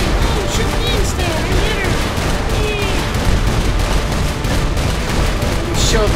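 Dense, continuous gunfire from enemies shooting at the player in Saints Row IV, loud and sustained throughout with rapid overlapping shots and bursts, under game sounds.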